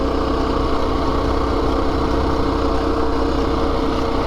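A small minibike engine runs steadily while riding along a road into Harvey, New Brunswick, a continuous, buzzy mid-pitched drone with wind rush, close and loud throughout with no talking.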